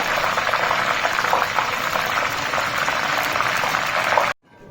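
Chicken dumplings fry in properly hot oil, giving a steady, dense bubbling sizzle at moderate volume that runs evenly and then cuts off abruptly near the end.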